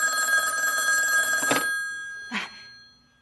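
A telephone rings in a hospital setting, with a sustained electronic ring, a brief pause, a short second burst and then a fade.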